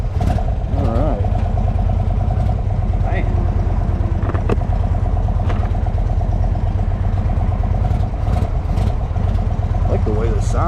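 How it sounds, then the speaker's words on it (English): A 2023 Indian Sport Chief 116 motorcycle idles at a stop, its engine giving a steady, loud, close rumble throughout with a faint rhythmic clatter and no pauses. "I like the way this sounds. It rumbles when you're at a stop, like the whole bike shakes."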